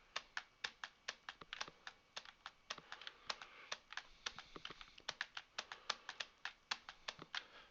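Computer keyboard keys pressed in rapid, irregular bursts of close, crisp clicks and taps, steady typing-like rhythm throughout with no voices, spacebar presses mixed among the other keystrokes.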